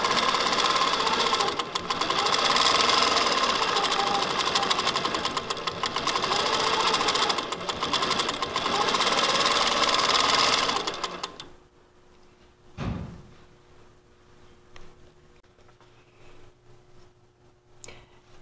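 An Innova longarm sewing machine with its stitch regulator set to 14 stitches per inch and a minimum speed of 300 runs with a loud, rapid, steady whir, then stops abruptly, leaving faint clicks and handling noises.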